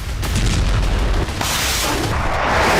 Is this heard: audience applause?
no